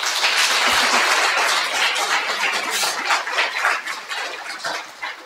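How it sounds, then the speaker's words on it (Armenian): A church congregation applauds visiting pastors, with dense, continuous clapping at full strength at first, then thinning and fading over several seconds. "Give them all a big hand."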